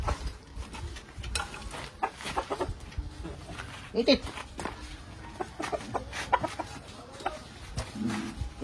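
Backyard chickens cluck in short, scattered bursts close by, mixed with people talking and some handling noises.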